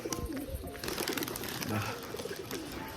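Pigeons coo in a loft or coop where birds are being kept and paired, soft repeated throaty calls running steadily under a bustle of other bird noise and faint voices.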